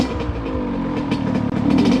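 A dirt bike engine runs close by with a steady, throaty drone and slight fluctuations in revs, loud and continuous with no talking.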